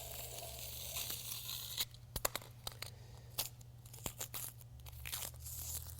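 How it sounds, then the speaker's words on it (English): A utility knife slicing masking tape along a saw cut in a concrete floor during a self-leveling overlay install: quick tearing and crunching bursts with sharp clicks, close and fairly quiet over a steady low hum. "we then take our knife and put it right there in the saw cut"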